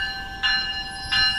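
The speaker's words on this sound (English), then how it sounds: "I took some video of a few southbounds while we waited for a northbound train to arrive." A South Shore Line electric train passes close by with a steady metallic rumble, two brief bright screeches of wheels or horn rising above the constant whine of the electric equipment.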